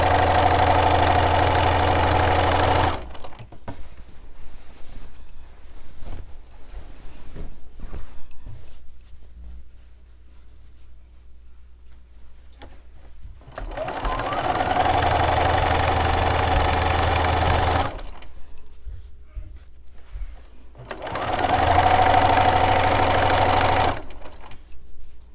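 A sewing machine runs in steady, even bursts while stitching binding onto a quilt, loud and close, with three long sewing runs separated by quiet pauses filled with faint handling noises.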